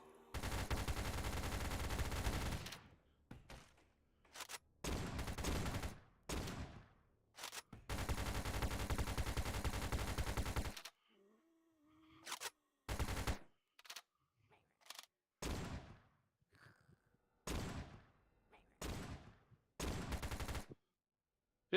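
Loud bursts of automatic gunfire in the VRChat video game, several long sustained volleys and short choppy bursts separated by near silence, close and harsh.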